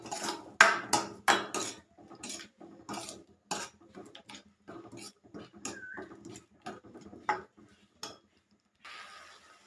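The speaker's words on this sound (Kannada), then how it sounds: "ಈಗ ಸ್ವಲ್ಪ ಹಸಿ ವಾಸನೆ ಹೋಗೋವರೆಗೂ ಫ್ರೈ ಮಾಡ್ಕೊಳ್ಳೋಣ." Spoon or spatula clinks and scrapes against a pan as ground garlic paste is stirred and fried, a steady run of close knocks with pauses, no talk.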